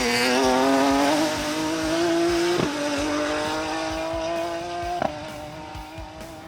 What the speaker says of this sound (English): a sweet-sounding BMW M3 were letting it hang out as they chased the top 5